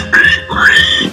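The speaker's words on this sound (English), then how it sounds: "warthog" A warthog gives a short, nasal grunting squeal, close and loud, lasting about a second with two rising tones.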